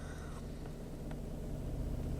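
A car engine idles at about 600 rpm in freezing weather, a steady low rumbling hum heard close up without other sounds.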